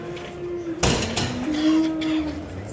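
Cattle lowing at a busy livestock market, with a loud moo and a sustained, tonal bellow from nearby cows over market background noise.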